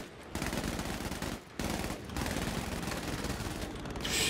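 Rapid machine-gun bursts from a Zero fighter plane in Battlefield 5, loud and dense, firing in sustained streams with two brief pauses and no talk.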